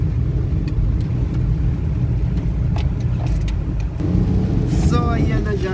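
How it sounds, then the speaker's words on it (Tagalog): Slow road traffic near the flyover in Tagum City, Philippines, rolls along as a continuous close rumble of car engines and tyres, with a few light clicks and a voice speaking toward the end. "So approaching na po tayo sa flyover. Pero medyo mabaga lang po ang daloy ng traffic po dito sa lugar na ito."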